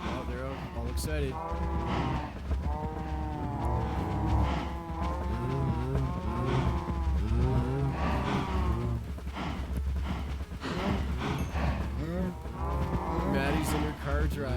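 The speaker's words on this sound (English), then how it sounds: "We'll feed the cows." Cows moo loudly and repeatedly at feeding time, their long lowing calls overlapping throughout, with a person talking over the herd.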